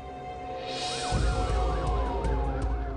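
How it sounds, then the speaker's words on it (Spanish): Police sirens wailing in the Brentwood neighborhood of Los Angeles at night in 1994, a rising-and-falling siren swelling in loudly over a low rumble and cycling steadily. "Se escuchan sirenas de la policía en el barrio de Brentwood"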